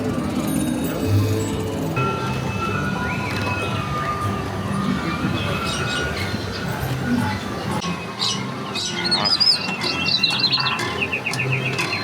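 High, thin bird-like chirps from an animated Disneyland display ring out in short bursts toward the end, mixed into a busy crowd murmur, with people talking nearby.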